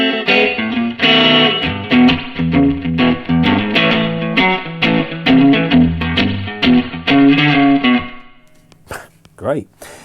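A distorted electric guitar, a Telecaster, plays a bluesy riff through an amp with effects, loud and sustained, then stops, leaving a few quiet notes.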